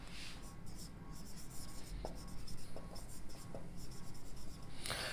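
A pen or chalk scratches out mathematical definitions on a writing surface in a classroom-style lesson, a series of quick rhythmic strokes and taps, close and fairly quiet, with no talk.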